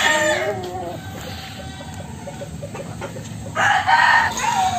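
White Hatch gamefowl chickens crowing and clucking nearby, with a rooster crow at the start, scattered clucks through the middle and another loud crow near the end.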